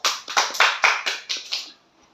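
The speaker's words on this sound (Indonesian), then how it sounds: "Mari kita memberikan aplaus." Students in a sixth-grade math class applaud together, a short burst of clapping in several rhythmic surges that fades out after about a second and a half.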